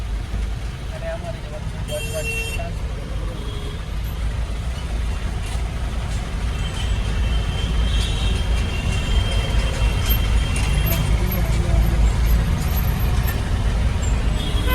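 Busy road traffic in Sarkhej, engines rumbling and a steady roar of passing vehicles throughout, with a brief horn early on and a person talking over the noise.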